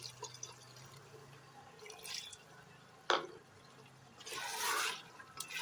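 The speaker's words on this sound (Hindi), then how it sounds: "तो हम थोड़ा सा इसमें पानी डाल देंगे।" Water poured into a pan of arbi (taro) keema, a brief soft splash and trickle near the end, with faint drips and quiet kitchen background before it.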